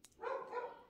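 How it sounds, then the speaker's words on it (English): A single muffled dog bark sounds briefly indoors at moderate distance, fairly faint and with no one talking. "My dogs again."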